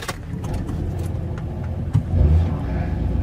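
A mega truck engine cranks and catches, rumbling into a rough idle with a low, steady roar that swells partway through.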